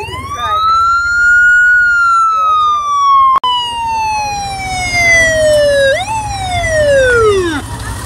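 A fire truck siren wails close and loud at a blueberry festival, a long falling tone followed by a sharp upward swoop and another descending wail.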